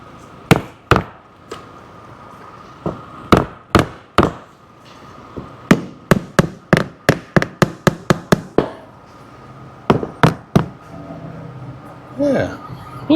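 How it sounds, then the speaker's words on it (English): Body hammer tapping tacks into jet ski seat vinyl, a long run of sharp, close strikes: scattered single blows, then a quick steady burst of a dozen, then a few more, with a short voice near the end. "next best thing, body hammer."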